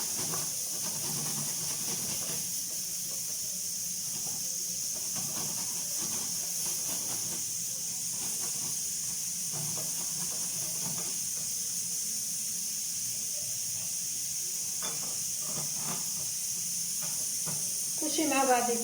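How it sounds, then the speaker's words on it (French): A cooking pot simmering over onion and garlic for a lentil and spinach stew, giving a steady, even hiss of steam throughout, with faint kitchen clatter and a voice talking softly over it. "La marmite est en train de cuire."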